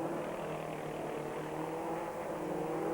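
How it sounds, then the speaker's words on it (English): A 1997 British race car with a blown exhaust passes in a steady, loud engine drone with a rough, ratchety edge, continuous and close with no talk. "That horrible ratchety noise is Flux's blown exhaust"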